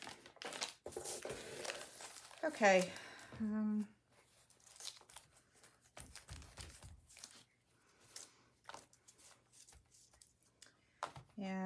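Paper crumples and crinkles while being swapped out during journal-cover crafting, with bursts of rustling and crushing up close, followed by quieter intermittent handling sounds and brief speech.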